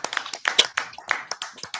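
A few hands clap in quick, uneven bursts in a studio during a sports talk radio show, close and brief, lasting under two seconds.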